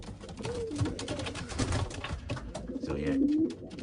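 Young pigeon chicks coo softly in a nest, a few low, drawn-out calls heard close up over rustling and handling noise.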